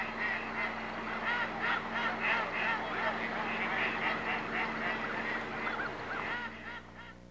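Large flocks of geese honk continuously at a spring or fall waterfowl stopover wetland at Emiquon, a dense, overlapping chorus of calls that holds steady at moderate loudness before fading slightly near the end.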